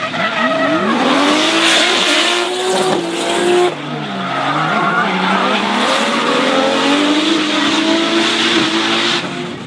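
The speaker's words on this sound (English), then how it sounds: "a battle of Nissan RB engines at full throttle" Drift cars with Nissan RB engines roaring at full throttle at a D1NZ drifting championship round in Taupo, high revving, tire squeal and skidding, loud and continuous with shifting pitch as they slide past.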